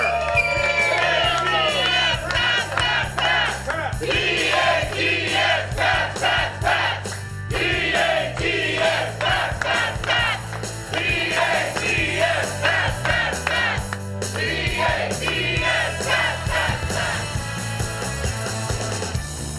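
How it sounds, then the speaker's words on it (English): A crowd cheers and shouts loudly and continuously over a thumping musical backing, steady and close, with whoops rising through it at a sports-celebration event. "Let's hear that cheer one more time. Give me that cheer."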